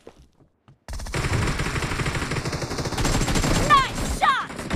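Rapid gunfire from an arena video game, with dense bursts of shots and effects running steadily after a short quiet start, loud and close, mixed with game sounds.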